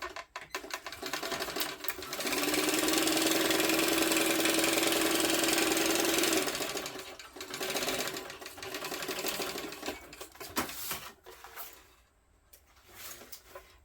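A sewing machine stitching a tote bag runs in one long steady burst of rapid mechanical whirring, then stops and gives way to quieter handling, fabric rustles and small clicks.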